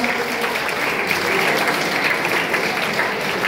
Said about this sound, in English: Yes, clap your hands forward.